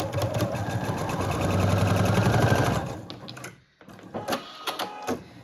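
A sewing machine stitches a quarter-inch quilt seam, whirring fast and steadily for about three seconds before stopping, followed by a few soft mechanical clicks and taps.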